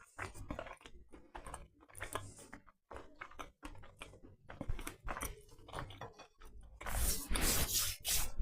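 Biting and chewing an air-fried strawberry scone close to the mic, with soft crunchy mouth sounds in irregular bursts that grow louder and denser toward the end; no talking.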